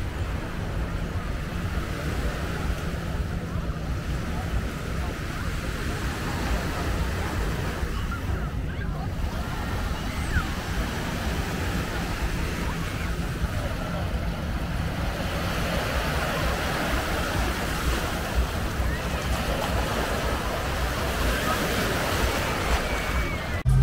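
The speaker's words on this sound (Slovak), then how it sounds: "Ukážem vám teraz pláž." Sea waves wash onto a beach in Dubai, a loud steady roar of surf mixed with strong wind buffeting the microphone, swelling and easing in slow surges throughout.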